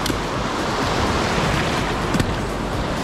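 Surf breaks on the shore at La Jolla during a boat launch through the breakers, a loud, steady wash of noise with brief surges, no talking.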